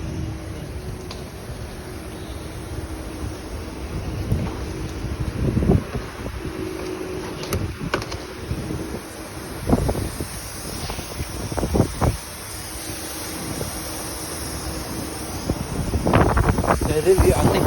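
Sonny's central vacuum system runs at the Washed Ivanhoe car wash, with a steady airy rush, a faint hum underneath and repeated dull thumps and bumps close to the microphone.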